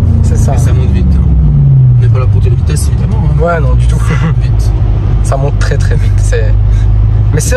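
A BMW M5 Competition LCI tuned to Stage 1 with 772 hp and a full Akrapovic exhaust accelerates hard, its loud engine note rising and rumbling throughout while people talk over it.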